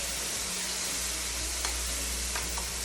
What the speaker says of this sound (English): I'm getting ready to add my tomatoes in there.